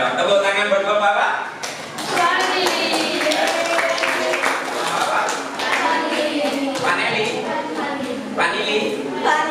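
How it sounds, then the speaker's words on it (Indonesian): A class session gives a presenter a round of applause, with dense, steady clapping from many hands lasting several seconds and voices mixed in underneath. "Tepuk tangan buat Bapak Pak"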